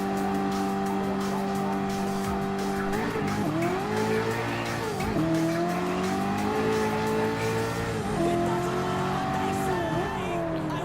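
Engines roar steadily during a drag race in Gran Turismo Sport at Blue Moon Bay, with continuous loud revving that shifts pitch as cars climb through the gears, constant and close throughout.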